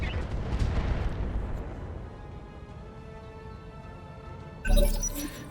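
Mech weapons fire in RogueTech BattleTech: a heavy opening volley of booms decays into a long metallic ringing tail, then a sharp new impact bursts in near the end.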